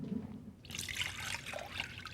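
Liquid pours into a container in a raw-food kitchen, a steady trickling splash that starts after a brief pause and continues close to the microphone without talk.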